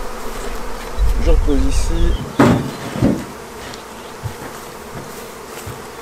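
Honeybees buzz around an opened hive on a mild, sunny day, a constant close hum beneath handling knocks and a brief wooden clunk, while a person speaks a few quiet words.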